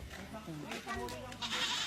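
A goat bleats a few times at a family outing in Lipa City, Batangas, its wavering calls mixed under nearby people talking.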